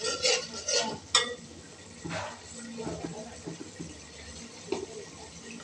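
Spice paste for a cauliflower and hilsa fish curry being stir-fried in a pan, a soft low sizzle with intermittent scraping and clinks of a spatula, a few louder knocks early on.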